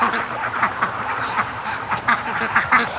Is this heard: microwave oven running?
no